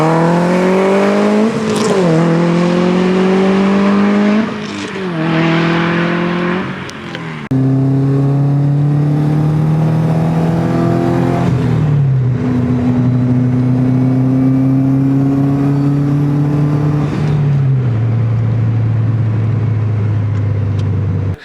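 A Subaru WRX STi engine accelerates through several gears from inside the car, revs climbing steadily then dropping at each shift, loud and continuous without speech.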